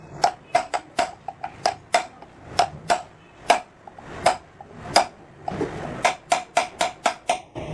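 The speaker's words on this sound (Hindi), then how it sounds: "गिलास को निकालने के लिए हमें इसमें चोट देना पड़ रहा है" Hammer blows on a steel chisel chipping out the glass of a donkey water pump, a steady series of sharp, ringing metallic strikes at a fairly even rhythm, close and loud with no talking.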